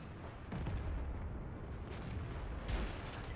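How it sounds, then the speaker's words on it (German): Artillery fire in the tank game World of Tanks lands in a few dull, muffled booms over a steady rumbling background, fairly quiet and distant. "Und natürlich die Arte jetzt auf mich."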